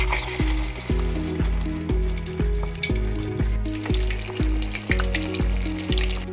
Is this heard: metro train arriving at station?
no